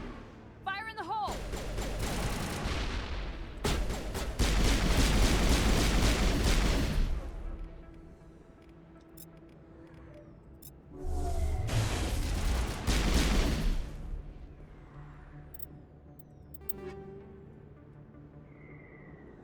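Grenade blasts and gunfire in Mass Effect, two long loud roaring bursts of explosive noise separated by a quieter gap, with sharp crackling shots at the start and a voice speaking in between.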